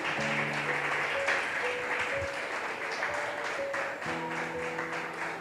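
A congregation at a church sermon applauds continuously in a dense, steady clatter of clapping, with faint sustained musical tones sounding beneath it.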